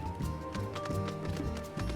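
A horse mount in Final Fantasy XIV trots with a steady, close clip-clop of hooves, heard during the Heavensturn 2024 event.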